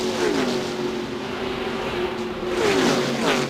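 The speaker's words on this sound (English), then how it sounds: "Now the 3rd, 4th place cars running side by side." Stock race cars running side by side at the 1998 Winston 500 NASCAR race, a loud, continuous engine roar with pitch shifting as the cars rev and pass, steady and close with no talk.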